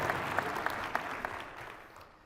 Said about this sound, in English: If one person claps, we all clap.